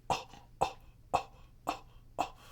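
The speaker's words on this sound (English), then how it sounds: "like small little coughs" Five short, sharp coughs spaced evenly about half a second apart, close and clear with quiet between them, made while exhaling vape smoke.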